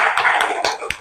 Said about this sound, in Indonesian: Tepuk tangan dulu untuk Sahi.